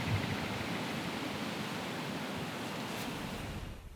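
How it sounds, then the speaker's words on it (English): Steady, soft wind rushes and hisses outdoors on a cold day, a constant broadband whoosh with no voices, easing slightly at the end. "A little cold and windy."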